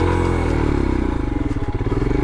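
A Royal Enfield Himalayan motorcycle engine chugs low and steady as the bike crawls slowly off-road over rocks, with loud, close rhythmic thumping that pulses faster toward the end.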